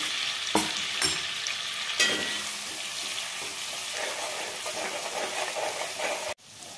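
Ginger garlic paste frying in a pan for pav bhaji, a steady close sizzle with a few sharp stirring clacks, ending abruptly.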